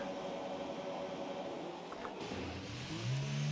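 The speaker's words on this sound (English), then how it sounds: "Everybody revving their engines." Race car engines rev on the starting grid at Imola before a race launch: a steady, loud mechanical drone with a rising engine whine near the end.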